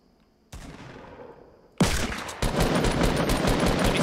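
Fortnite gunfire starts faintly, then breaks into a loud, close stream of rapid automatic shots that hammers on without a break.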